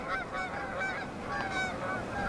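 Geese honk steadily at a pool in a wilderness park, several overlapping calls at moderate distance repeating throughout over a soft outdoor background.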